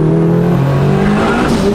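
A 500 hp Honda Civic accelerating hard in third gear on a rough road, the engine droning loud and close at a steady rising pitch as the tires break loose.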